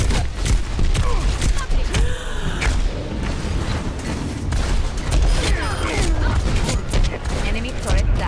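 Gunfire and explosions in the first-person shooter Titanfall 2, with rapid firing, booms and mechanical clatter in dense bursts, plus a voice speaking over the action.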